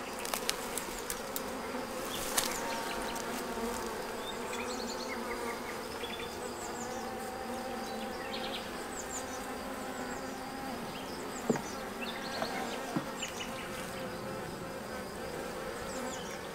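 Honeybees drone and buzz steadily around an open hive while honey frames are handled, a dense continuous hum with individual bees passing close now and then.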